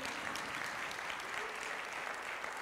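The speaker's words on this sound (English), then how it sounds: "Clap for God the Father" A church congregation claps for God the Father during a sermon, producing a continuous, dense wash of hand claps at a fairly distant, moderate level with no voices heard.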